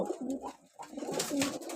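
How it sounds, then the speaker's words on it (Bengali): A female wild-type pigeon kept for sale cooing close by, low throaty rolling coos repeating in a short run, fairly soft, with no talk over them. "এই যে এটা হচ্ছে মাদি কবুতর"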